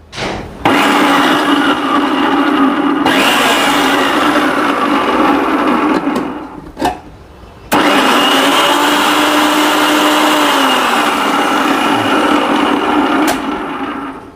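A Preethi Zodiac Cosmo food processor running in pulse mode, loud whirring bursts with brief stops between, the motor pitch shifting slightly as it works.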